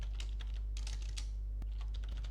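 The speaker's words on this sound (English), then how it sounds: "And here, let's type AI" Quick, light clicking of keys on a computer keyboard, a short burst of typing over a steady low hum, close and soft, with no talking.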